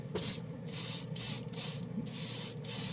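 Short bursts of an aerosol spray hiss from a can of steel or silver acrylic paint, about five pulses in quick succession with brief gaps between, close and steady.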